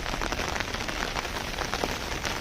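Heavy rain pours over a residential colony in Hyderabad during a storm, a dense, steady downpour drumming on surfaces at constant loudness, with no voices.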